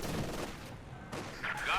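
Rifle grenades and gunfire crash in a Company of Heroes 2 battle, a dense burst of explosive shots layered over each other, loud and continuous through the brief moment.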